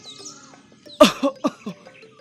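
A cartoon monkey gives several short, rough coughs in quick succession, close and fairly loud, with a brief squeaky vocal sound just before.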